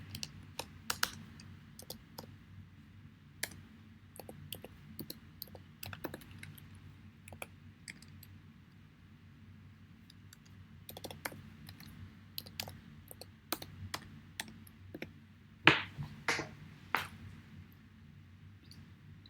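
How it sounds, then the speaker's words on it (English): Someone types steadily on a computer keyboard while writing an email, producing irregular bursts of close, crisp key clicks with short pauses over a low background hum and no talk. "it's also that I'm just typing this"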